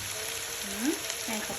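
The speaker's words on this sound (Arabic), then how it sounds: "بدنا نعمل نقليه لحتى يشقر، يعمل لون يدبل شوي" Pieces of meat for a tomato stew fry in olive oil in a pan, giving a soft, steady close sizzle with faint crackles throughout.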